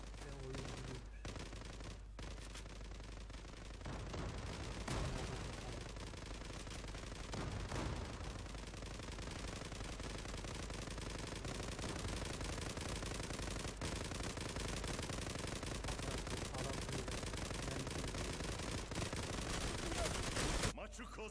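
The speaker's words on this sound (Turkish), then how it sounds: "o nasıl bir ateş edişler, mermisi bitmiyor adamın." Rapid automatic gunfire and shooting in the online shooter game Zula, played in an internet cafe match, with bursts running continuously and densely throughout, loud and sustained, with little pause.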